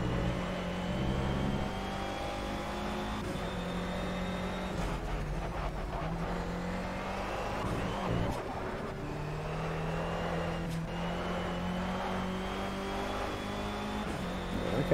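Race car engine in the racing video game Project CARS, a steady loud drone with rising and falling pitch as gears shift and the car accelerates, continuous for the whole stretch with no talk.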